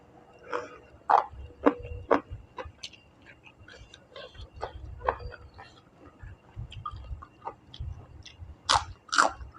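Crunchy pork rinds eaten with papaya salad: close, irregular crisp bites and crunches with chewing between them, the sharpest crunches near the end.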